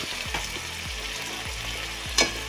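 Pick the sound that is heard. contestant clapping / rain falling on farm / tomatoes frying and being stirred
tomatoes frying and being stirred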